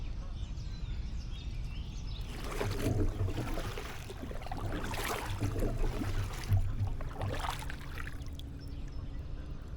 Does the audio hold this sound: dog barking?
no